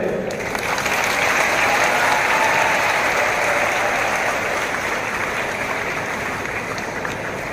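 Steady, dense applause from a large crowd at a school investiture ceremony, many hands clapping continuously at an even loudness throughout.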